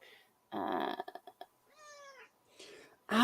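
A cat meows in a home, giving a few short, close, tonal calls with brief breathy grunts between them, ending in a sharp higher cry.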